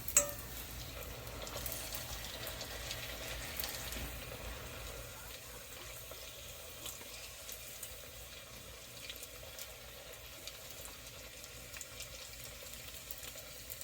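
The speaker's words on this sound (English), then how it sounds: "So you see, it's getting harder. It's not bubbling as much." Taco shell frying in hot oil, a steady soft sizzle and crackle that stays low and even throughout, close by with no talking.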